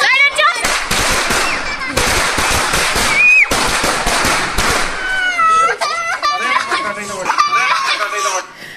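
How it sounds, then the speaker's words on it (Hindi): Firecrackers burst loudly during a family festival celebration with a mother-in-law, sharp cracks in quick clusters and a few whistling rockets, while people talk and chuckle nearby and a child is present. "तो जी ये देखिए यहाँ पे पटाखे फोड़े जा रहे हैं"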